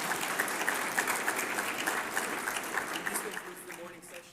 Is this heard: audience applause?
yes